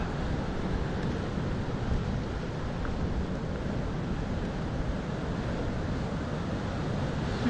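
Heavy surf pounds the shore of a rough, stormy sea where bass are fished from the bank: a dense, steady roar of breaking waves, with some wind buffeting the microphone and no voices.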